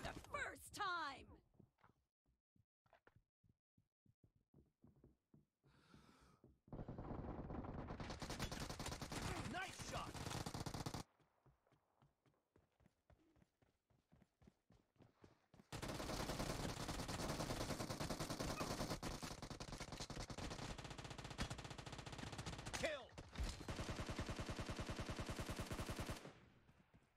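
Gunfire in the online shooter PUBG during a team match: bursts of rapid automatic shots in two long loud stretches, separated by quieter gaps with footsteps and a voice talking.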